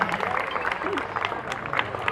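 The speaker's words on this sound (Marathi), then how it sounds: "ताईंसाठी जोरदार टाळ्या झाल्या पाहिजे" An audience at a speech event claps for a young girl, a continuous patter of applause with crowd murmur, fairly close and steady throughout.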